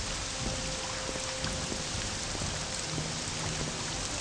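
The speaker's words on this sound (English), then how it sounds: "Ugh, it's still raining." Steady rainfall in the video game Morrowind, a continuous even hiss of drops with faint low rumbling underneath, no voices.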